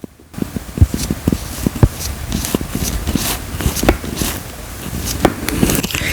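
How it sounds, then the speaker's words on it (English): A Samsung Z Flip 4 phone hinge is worked open and shut repeatedly, producing a string of small close clicks, taps and scraping handling noises at an uneven rhythm. "this is the sound of my hinge opening and closing"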